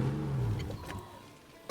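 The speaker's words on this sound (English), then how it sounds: "Listen to this van just tootling along." An orange van in the video game State of Decay 2 tootles along with a steady mid-pitched engine hum that gradually fades quieter, alone without talk.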